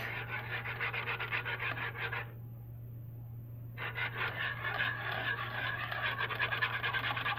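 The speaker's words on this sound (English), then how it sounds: "I'm just whisking that together" A gluten-free pudding mixture is whisked in a pan, giving a faint, continuous scratchy whisking. It pauses for about a second and a half, then resumes over a low steady hum, with no speech.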